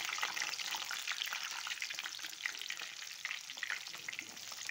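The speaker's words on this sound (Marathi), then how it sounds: "ज्यावेळेस आपण मासे तळतो त्यावेळेस आपलं तेल एकदम कडक असं गरम पाहिजे." Fish frying in very hot oil gives a steady, dense crackling sizzle with tiny popping bursts, loud and close and running the whole time with no voices.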